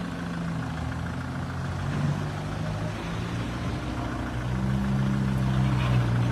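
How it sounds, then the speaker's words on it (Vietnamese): A 2016 Kubota L5018VN tractor with its diesel engine running steadily, a continuous low rumble close by with no voices. "Con này động cơ 2016 rất là bốc anh em."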